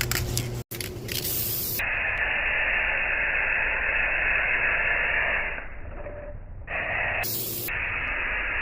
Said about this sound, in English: I'm gonna spray some of this on here so I can see what I'm doing.